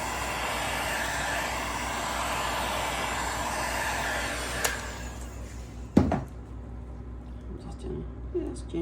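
A heat gun blows a steady broadband whoosh while gently heating paint; it runs loud and close for several seconds, then cuts off, followed by a sharp knock and a few quieter handling sounds.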